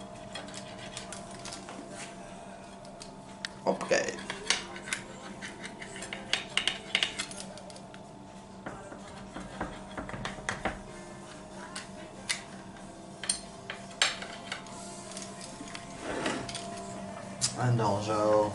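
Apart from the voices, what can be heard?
cutting pizza with a pizza cutter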